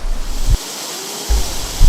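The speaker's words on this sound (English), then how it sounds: "the melted snow goes through the sediments for 2 years before they come out of the waterfall called Shiraito" Steady broadband rush of water from Shiraito waterfall near Karuizawa, fed by snowmelt filtering through sediment, heard close and continuous with gusts of wind buffeting the microphone.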